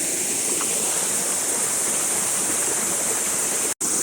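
Continuous rushing of a flowing village stream in Dodamarg, Konkan, loud and close, a broadband roar with one sudden momentary dropout near the end.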